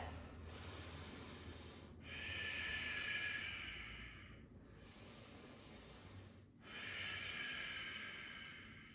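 Slow, deep yoga breathing close to the microphone: four long, airy breaths alternating inhale and exhale, each swelling and fading smoothly over a couple of seconds, with no speech.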